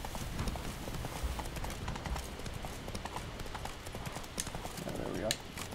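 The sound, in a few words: horse Roach's hooves in video game The Witcher 3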